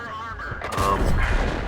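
KV-1 heavy tank firing its experimental 57mm gun in a tank battle game, a loud close cannon blast with a rumbling tail, voice murmuring faintly underneath.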